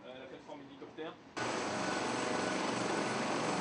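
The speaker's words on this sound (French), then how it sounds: "L'hélicoptère Panthère du Sirocco effectue une première rotation vers la Terre" Panther helicopter from the Sirocco flying out toward land, a loud steady rotor and engine roar that starts abruptly and fills the rest of the clip after a brief stretch of quieter sound.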